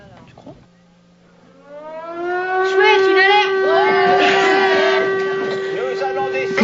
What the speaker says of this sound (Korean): 그때 경보 사이렌이 울립니다.